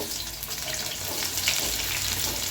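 Chopped onions drop into hot frying masala for chicken dum biryani, giving a dense, close, steady hiss of sizzling oil with a slight swell midway.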